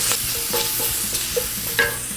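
Shrimp and scallops sear with chipotle in a hot pan, a steady close sizzle broken by stirring scrapes and a few sharper pops and clinks, with no voices.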